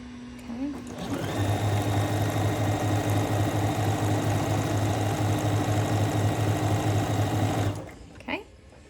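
A tumble dryer runs steadily with a loud mechanical hum and rhythmic rattling as overalls tumble and clang inside, a continuous drone lasting several seconds before stopping.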